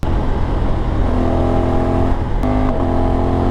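A Honda Africa Twin 1100 motorcycle with a quick shifter runs loud and close, the engine note steady and then stepping through quick blipped shifts near the end.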